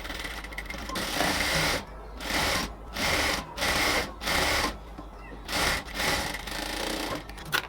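A sewing machine stitches designer lace onto frilled ladies' pants, running in several loud, steady bursts separated by brief pauses, close by and alone.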